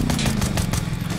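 A motorbike engine drones steadily behind the player in the battle-royale shooter Free Fire, a continuous buzzing motor with a faint rhythmic pulsing, close and fairly loud throughout.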